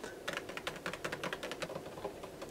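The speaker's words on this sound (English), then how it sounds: "I really like editing with the keyboard, but the thing is, this isn't very clicky." Keyboard typing on an iPad Pro keyboard, a quick irregular run of soft, shallow taps with little key travel, close and clear with no talk.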